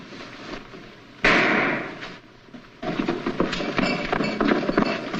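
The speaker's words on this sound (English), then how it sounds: "What was that shot?" A single gunshot in an old Boston Blackie detective film rings out as a sharp, loud crack that decays into a rumbling echo, followed by a second burst of clattering, muffled noise.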